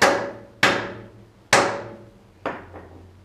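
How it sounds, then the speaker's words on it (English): A hammer drives an anchor bolt into a concrete floor to secure a safe, giving four sharp, loud metallic strikes spaced unevenly, each ringing briefly before fading. "Hammer that down into there."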